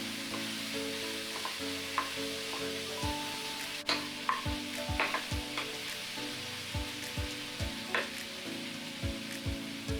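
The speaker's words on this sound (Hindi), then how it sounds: "इसमें हम डालेंगे सोया चंक्स जो हमने पहले कुक किए थे और इसे भी अच्छी तरह से मिक्स कर लेंगे।" A spoon stirs previously cooked soya chunks into masala frying in a pan, giving a steady sizzle broken by regular scraping strokes, close and alone with no voices.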